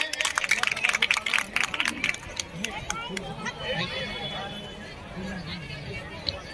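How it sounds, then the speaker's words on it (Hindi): A crowd claps and cheers at a mass wedding ceremony for 25 couples at a community gathering, with dense applause loudest at first, then thinning into chatter and crowd murmur. "जोरदार ताली है के लिए।"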